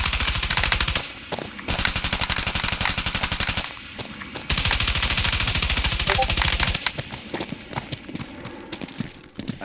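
Loud machine gun fire in long, rapid, evenly spaced bursts, with brief pauses between strings of shots, close and dominant throughout.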